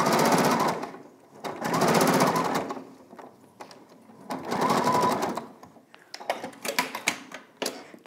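Sewing machine stitching a seam on a jeans jacket, running in several loud bursts of rapid, even needle rattle separated by short pauses and a few lighter clicks, close by with no talking.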